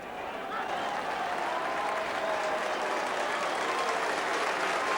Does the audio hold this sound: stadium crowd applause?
yes